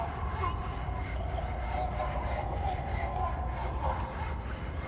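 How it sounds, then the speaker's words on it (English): Constant rhythmic sawing plays as ambient sound in the horror video game Amnesia: The Dark Descent, repeated back-and-forth strokes at a steady pace under a low rumble, with no talk. "Listen to the sounds of the sawing, the constant sawing."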